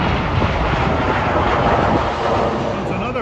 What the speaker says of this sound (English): This is a Caribbean Airlines 737 from Kingston, Jamaica.